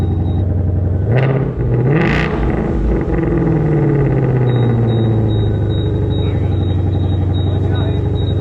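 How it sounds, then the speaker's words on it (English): A Ford Mustang GT500 engine revs loudly and close by, with a rising and falling roar, while people talk over it. "He's gonna rev it for us."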